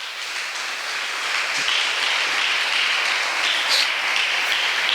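A church congregation applauds the Lord with a loud, dense wash of clapping that holds steady throughout, with some cheering mixed in.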